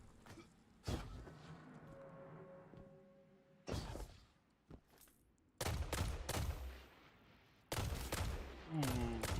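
Destiny 2 gunfire comes in several loud, chunky bursts of rapid shots, separated by quieter stretches with faint game effects and a few isolated impacts.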